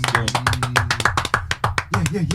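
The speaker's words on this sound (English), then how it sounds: "I'll applaud myself still." Hands clap in quick, uneven bursts close to the microphone during a podcast, mixed with people talking over the claps.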